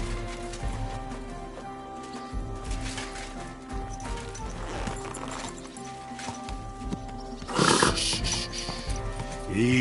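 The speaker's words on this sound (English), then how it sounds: "Easy, good horse." Horse hooves clip-clopping in the medieval game Kingdom Come Deliverance 2, a steady rhythmic clopping under ambient rustling, ending with a louder snort or whinny-like burst near the end.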